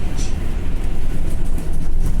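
A train at Puhinui Station in Auckland rumbles steadily nearby, a loud broadband roll with low-end weight and faint hiss above, continuous through the moment.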